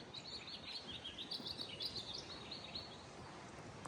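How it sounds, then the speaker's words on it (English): Birds chirping outdoors at a home in Penn Valley, California, a scatter of high, quick tweets over a steady, faint background hiss, no one talking. "I don't know if you can hear the birds"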